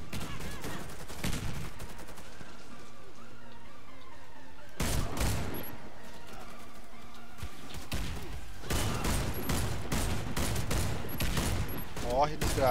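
Gunfire in the Warface video game, with a Fabarm S.A.T. 8 Pro Gold shotgun on the Hangar map: rapid bursts of shots in several clusters, loud and close, with a voice speaking between them.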